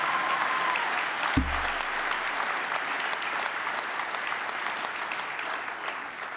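A banquet crowd at a business partnership annual event claps steadily in dense, even applause, with a brief low thump early on and no break in the clapping.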